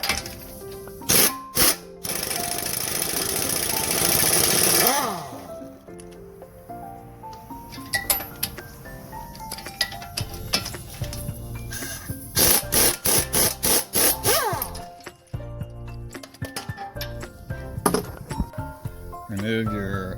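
On a 2014 Dodge Journey, a power tool undoes the lower strut mounting bolts, heard as short loud whirring bursts and rattling spins between pauses and clanks, with a person talking in between.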